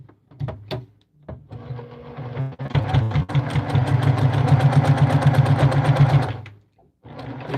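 Sewing machine stitching a fabric bowl cozy: a few short start-stop bursts, then a steady rapid mechanical whir lasting several seconds before stopping and starting again, close and loud.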